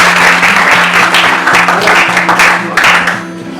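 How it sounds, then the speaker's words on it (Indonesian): A classroom of students at a junior high school applauds a student group, with loud dense clapping that lasts about three seconds before it fades a little. "Mari tepuk tangan dulu untuk kelompok 4."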